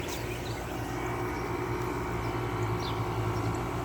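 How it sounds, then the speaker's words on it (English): An HVAC unit starts up with a steady low mechanical hum and broad airy rush, running continuously at an even level for a few seconds, with no one talking. "This unit has a really nice startup sound to it."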